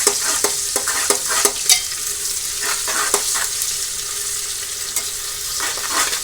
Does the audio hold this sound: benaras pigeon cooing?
no